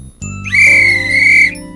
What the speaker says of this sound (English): especially when you have a whistle like this